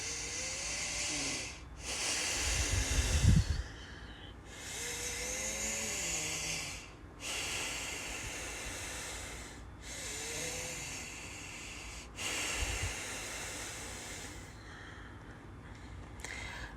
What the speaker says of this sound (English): Long inhales through the nose and even longer exhales through the nose.